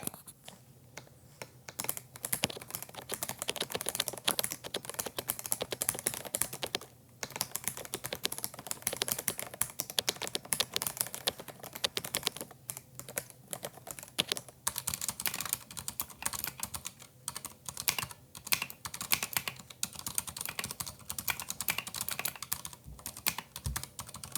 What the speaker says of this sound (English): this is a very quiet mechanical gaming keyboard